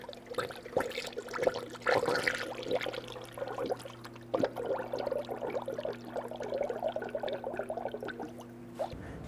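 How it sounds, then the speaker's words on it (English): Manufacturer-specified coolant pours through a funnel into the radiator of a 1999-2004 Jeep Grand Cherokee 4.7L V8, a faint steady trickle and gurgle lasting several seconds over a low background hum. "I'm going to go ahead and fill up our radiator with the manufacturer specified coolant."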